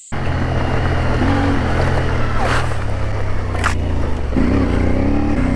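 A CFMOTO 450MT (IBEX) motorcycle ridden hard off-road, its engine droning steadily and loudly with small shifts in pitch, plus brief scraping and rattling noises over the continuous motor.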